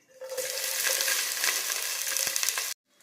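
Onions and green chillies fry in ghee with a steady, loud sizzle and crackle that fills the pan for nearly three seconds, then cuts off abruptly.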